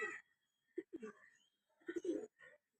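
A female pigeon with black eyes and a black tail coos in short, soft bursts, three or four close, low throaty phrases separated by brief pauses.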